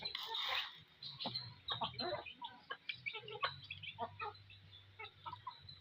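Several chickens cluck and chatter close by in short repeated bursts, with a louder squawk at the start over a low background hum.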